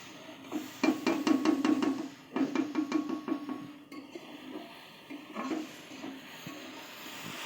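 A spoon or ladle scrapes and knocks inside a cooking pot in quick rhythmic bursts of metallic clinks, pausing and resuming, close and moderately quiet.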